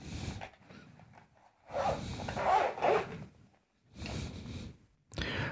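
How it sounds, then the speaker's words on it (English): A zipper closing on a waterproof case for a SanDisk portable SSD, several short quiet zipping pulls separated by pauses, heard up close with no talking. "quality of this zipper, you can see this zip is also very good"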